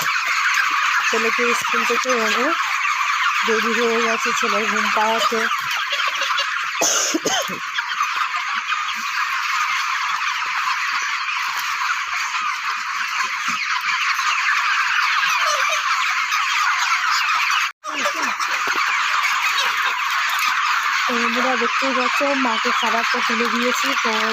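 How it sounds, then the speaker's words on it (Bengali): A large flock of chickens crowds together at evening feeding time, a loud, continuous chorus of clucking and squawking close by, briefly cutting out once before resuming. "খাবার দেওয়ার সাথে সাথে মুরগি সব এক জায়গায় হয়ে গেছে"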